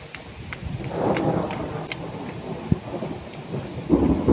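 Thunder rumbles low and fairly distant over a hobby garden as a storm approaches, with a soft wash of rain and a few sharper cracks, no talking.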